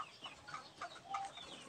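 Native chickens, a rooster and a hen, clucking softly in quick, short bursts, faint and close, with no voices.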